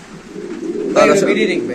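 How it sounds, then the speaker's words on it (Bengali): A large Mundian pigeon gives one short, close coo partway through, over a low background murmur. "খুব সুন্দর মাসলা অনেক বড় সাইজের কবুতর"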